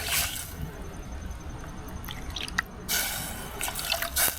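Water poured into a pot for cooking jalapeño and cheddar grits: light splashing and dripping in short bursts, close and fairly quiet, with no speech.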